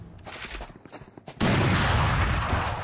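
Rapid gunfire in Valorant: a string of quick, close shots first, then a sudden loud sustained burst of heavy automatic fire that keeps going to the end, with no talk.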